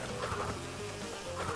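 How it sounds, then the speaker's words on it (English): Swarm of bees in the Crash Bandicoot 2: Cortex Strikes Back video game, a dense continuous buzzing drone that stays loud and near throughout with slight swells, no voices. "Whoa, them bees."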